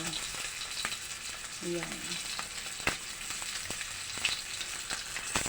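Smoked tinapa fish frying in shallow oil in a big pan, giving a steady close sizzle and crackle with occasional pops, and a brief spoken word partway through.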